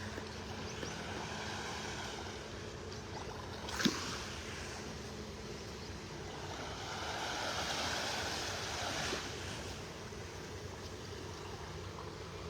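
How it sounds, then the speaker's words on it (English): Steady broadband hiss of rain falling on open water at a beach in North Naples, Florida, with faint lapping and wind, one brief splash or knock partway through; no voices. "Sounds like rain hitting the water out here."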